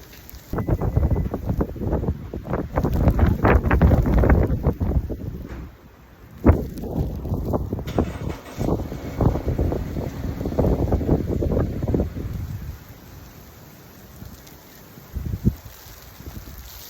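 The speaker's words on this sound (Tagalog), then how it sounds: "That's why it's so windy." Strong gusts of wind buffeting the microphone in loud rumbling waves during freezing rain, easing off toward the end before one last short gust.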